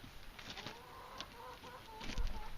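Soft chicken clucks and murmurs come from nearby birds over a steady hiss of background noise, growing slightly louder toward the end.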